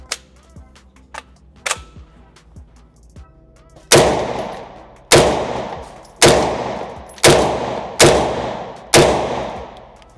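Six sharp, loud gunshots from an MP5 clone ring out one by one at roughly one-second intervals, each with a short echoing decay, after a few faint clicks and handling noises.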